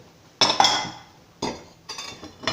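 Bright clattering clinks of plates, chopsticks and utensils knocking together while washing dishes, in separate bursts, close and fairly loud, with short quiet gaps between.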